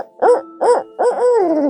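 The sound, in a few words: turkey caller imitating an owl hoot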